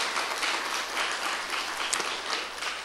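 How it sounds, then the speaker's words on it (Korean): A church congregation gives a sustained round of applause during a Sunday service, a dense, steady wash of many hands clapping together at moderate volume for several seconds, with no voices standing out. "박수로 감사합니다"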